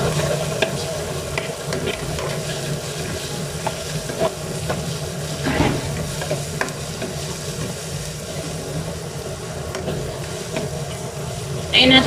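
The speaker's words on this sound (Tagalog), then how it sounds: "Lagyan ng bawang at luya at saka dalawang sili." Garlic, ginger and chili peppers frying in a pan for a seafood curry, a continuous close sizzle with scraping stirring strokes and a voice talking over it.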